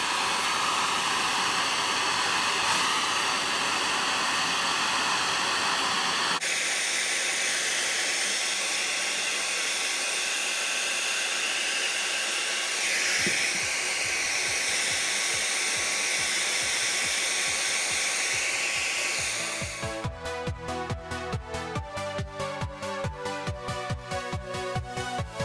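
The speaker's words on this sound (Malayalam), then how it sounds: "അപ്പോൾ അതിന് വേണ്ടിയിട്ട് നമ്മൾ ഒരു ഹീറ്റർ എടുത്തിട്ടുണ്ട് മുടി ചൂടാക്കണം. അപ്പോൾ ഈ ഹീറ്റർ വെച്ചിട്ട് നമുക്ക് നന്നായിട്ട് ഹീറ്റ് ചെയ്തെടുക്കാം" A hair dryer heats a candle-waxed shoe for waterproofing, giving a loud, steady hiss and roar that keeps going with slight shifts in pitch and then turns into a pulsing tone near the end, with no talking.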